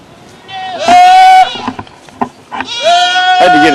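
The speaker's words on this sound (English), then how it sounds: "Putting these goats back in the pasture where they're supposed to be." Goats being herded back into a pasture give loud, wavering bleats close by, two main calls with scattered shorter ones, amid rustling movement.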